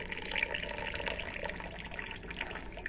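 Ajwain leaf juice is poured into a cup, a soft, close trickle of liquid with faint splashy patter running for about three seconds.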